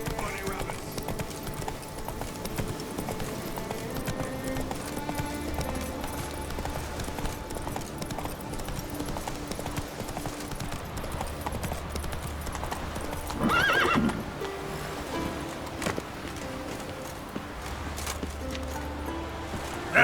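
Roach, Geralt's horse in The Witcher 3: Wild Hunt, galloping: steady hoofbeats over soft game music, with a whinny and a brief louder swell midway.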